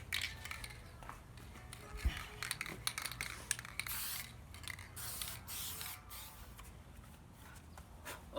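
Outdoors, a spray can lays a second coat of paint on a car part, sputtering in repeated hissing bursts of uneven length, close and fairly quiet, with light handling noises and a faint breeze.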